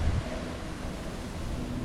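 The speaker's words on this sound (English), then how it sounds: "it's pretty windy in Vegas here today" Wind blows outdoors in Las Vegas, a steady broadband rumble and rush buffeting the microphone throughout.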